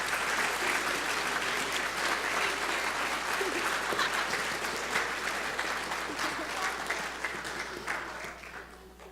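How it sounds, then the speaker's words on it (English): A congregation at a family Christmas worship service applauds in a steady, dense round that slowly fades toward the end. "How about one more round of applause for our..."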